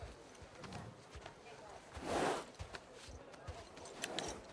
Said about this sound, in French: Ça, c'est un bon cheval.